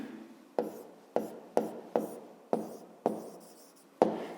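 A pen writing down a maths answer, a series of about eight short scratchy strokes, each starting sharply and fading, close and clear against a quiet room.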